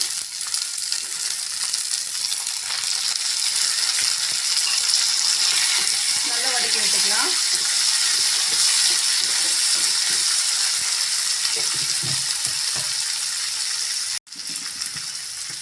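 Onion and cut tomatoes sautéing in a pan for a broccoli stir-fry, giving a continuous close hiss and sizzle with occasional spatula knocks, steady throughout and briefly cut off near the end.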